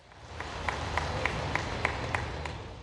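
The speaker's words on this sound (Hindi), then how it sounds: "एक बार पूरा सदन ताली बजाकर टंट्या भील विश्वविद्यालय की स्थापना के अवसर पर हमारे सभी मंचासीन का हार्दिक स्वागत करें" An assembly hall audience at a Tantya Bhil University foundation ceremony in Jhabua claps to welcome the dignitaries on stage, a short burst of scattered applause with a few sharper individual claps rising over a crowd murmur.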